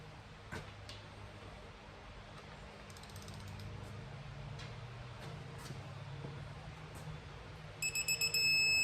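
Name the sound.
torque wrench ratcheting while torquing bolts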